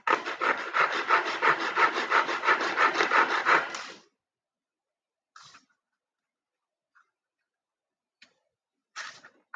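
Steady rhythmic rasping of sandpaper rubbed back and forth on a small wooden model roof truss gusset for about four seconds, then quiet with a few faint brief scuffs.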